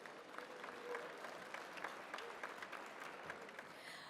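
Audience at an alumni awards show applauds a university vice president and provost, a quiet but steady round of many hands clapping, with scattered sharper claps standing out, heard from some distance.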